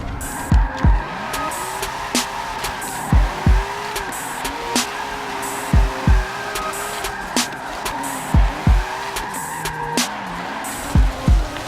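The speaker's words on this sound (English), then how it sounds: "Nice little jump drift there." A drift car in Forza 7 lands a jump and slides, tires squealing in long, loud, wavering screeches over a droning engine, with sharp thumps and bursts repeating as it drifts through corners; no talking.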